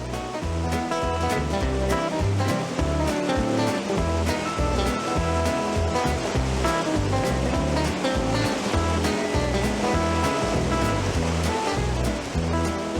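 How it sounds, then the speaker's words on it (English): Rushing water of the Athabasca River just below Athabasca Falls, a steady, dense roar that holds loud and unbroken throughout with no voices. "we're going to run the Athabascan River. This journey starts below the Athabascan Falls"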